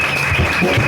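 A brief burst of dense applause from a church congregation, loud and close, with many hands clapping at once.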